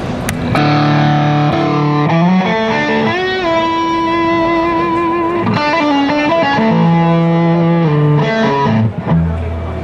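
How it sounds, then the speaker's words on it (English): A crunchy, Marshall-style distorted electric guitar plays through a ZVEX sustain pedal, sustained chords and ringing held notes, loud and continuous, with long smooth sustain between changes. "like this sort of a distortion, kind of a crunchy Marshall sound, and you apply this to it"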